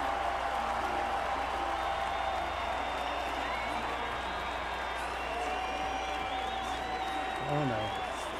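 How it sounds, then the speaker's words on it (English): A crowd applauds at a Jelle's Marble League marble race, a sustained hiss of clapping and crowd noise running throughout at moderate level with a brief swell near the end. "the crowd really appreciated that one"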